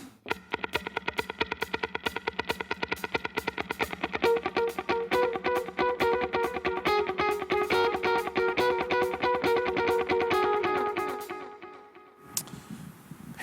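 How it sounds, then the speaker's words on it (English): Tap-tempo delay effect repeating a hi-hat click pattern, steady rhythmic echoes layered into a dense, sustained texture that builds then cuts off near the end, with no voices. "delay with a tap tempo"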